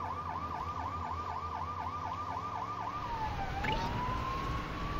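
A video game police siren from Lego City Undercover wails in rapid up-and-down yelps, then shifts to a long rising and falling tone, steady and fairly close, with no talking.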